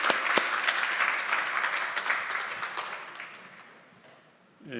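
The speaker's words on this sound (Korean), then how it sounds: "박수로 환영하시면 감사하겠습니다" Church congregation at a Sunday worship service clapping in welcome, a broad wash of applause that gradually thins and fades toward the end before a brief new sound cuts in.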